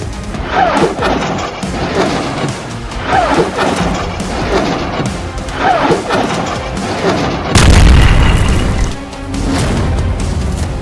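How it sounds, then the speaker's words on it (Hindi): Heavy booms and crashing blasts from a Hezbollah rocket attack on Israel, several loud impacts recurring irregularly, with a sharper, louder blast near the end, all set against dense rumbling noise. "हिजबुल्लाह ने सैकड़ों रॉकेट से इजरायल पर भीषण हमला कर दिया है"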